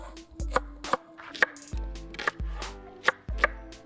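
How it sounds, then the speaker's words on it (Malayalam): A knife chops onions on a cutting board in brisk, evenly spaced strikes, about nine crisp thuds close by with faint ringing after each, no voices. "നല്ല സവോള ഒരു 6-7 എണ്ണം ഭംഗിയാക്കി എടുത്ത് ഇതുപോലെ കട്ട് ചെയ്തെടുക്കാം"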